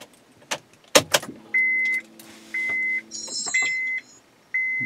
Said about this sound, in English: I'm going to click on the power here.